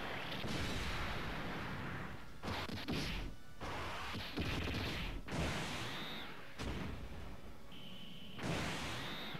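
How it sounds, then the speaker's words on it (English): The Neo Double Hand Beam Cannon attack in the mobile game Dokkan Battle comes as a run of loud, repeated energy blasts and impacts. Short gaps separate the bursts, with whooshing tones between them. "Neo Double Hand Beam Cannon!"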